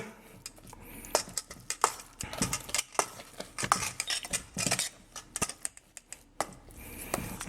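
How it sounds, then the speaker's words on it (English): A pork and shrimp burger mixture is stirred in one direction in a bowl, giving repeated wet clicks and utensil taps against the dish in an irregular rhythm, close and fairly quiet, with no talking. "you try to kind of stir them in one direction"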